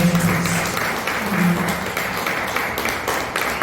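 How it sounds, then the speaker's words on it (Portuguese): Dense applause from a church congregation, steady and fairly loud throughout, with faint voices mixed in. "Então aplauda Jesus bem forte."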